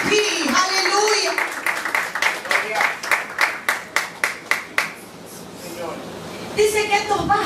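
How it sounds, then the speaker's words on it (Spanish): A congregation claps for the teacher during a Father's Day church service, a run of sharp, evenly spaced claps that fades out, with someone speaking before and after. "Dale un aplauso al maestro, aleluya, porque él está aquí"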